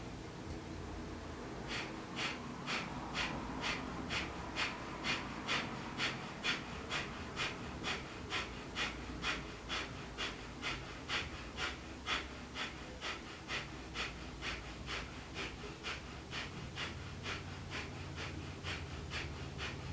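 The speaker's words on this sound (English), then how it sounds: "we're really thinking about exhaling all the air out of our lungs each time, nice and fully" Deep, steady yoga breaths with full exhalations repeat in an even rhythm, close and soft, about one breath cycle every half second to second, with no talking.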